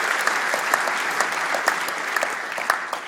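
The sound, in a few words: applause for a third prize winner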